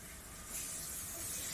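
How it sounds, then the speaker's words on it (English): Rice being fried in a pan with beans and potatoes for Dominican moro gives a steady, close sizzling hiss that swells slightly partway through and continues evenly, with no talking. "She adds the rice to that, fellas."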